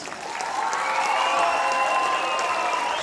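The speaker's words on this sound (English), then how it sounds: "Let's give a round of applause for all of our soloists." Concert audience applauding the soloists at a school spring showcase, a dense steady wash of clapping from a crowd, moderately loud and unbroken for the whole stretch.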